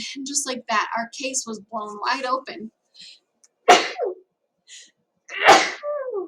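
Two sharp sneezes a couple of seconds apart, each followed by a short voiced trail, after a stretch of someone talking.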